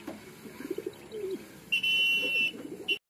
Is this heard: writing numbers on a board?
no